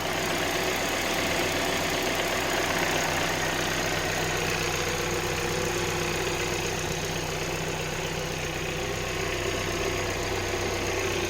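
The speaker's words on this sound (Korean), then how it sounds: "엔진 소리 아주 자글자글 좋죠?" A grey Hyundai Grandeur IG sedan engine idles steadily at close range, a continuous low rumble with a faint mechanical rattle and no talking.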